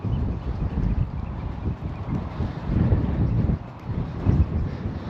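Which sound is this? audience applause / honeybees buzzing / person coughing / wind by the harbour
wind by the harbour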